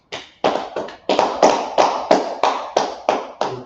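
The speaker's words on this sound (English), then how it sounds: "Clap it up for the Most High" A church congregation at a Sabbath service claps in a steady rhythm, about ten loud, close, even beats in under four seconds with no talking.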